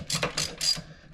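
A ratchet clicks in quick, close bursts, around three or four, while loosening a T50 Torx shock bolt on a motorcycle rear shock.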